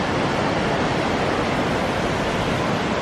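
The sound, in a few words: ocean waves breaking on the beach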